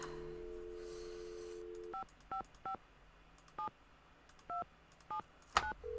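DTMF keypad tones from dialing a phone number in the Nancy Drew game Secret of the Scarlet Hand: about nine short, evenly bright beeps in an irregular rhythm, following a steady tone, then a brief burst of a noisier signal at the end.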